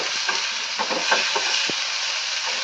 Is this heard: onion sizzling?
yes